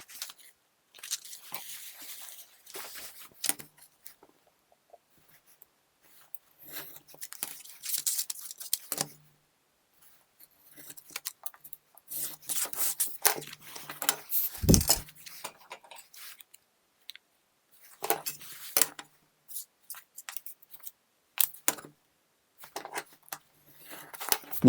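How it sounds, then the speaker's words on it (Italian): Utility knife and scissors cut through recycled plastic, the knife on straight runs and the scissors on curves, giving intermittent crunchy snips and scrapes in bursts with quiet gaps between. "Mi servo del taglierino per le parti rettilinee, mentre uso le forbici per le parti curve."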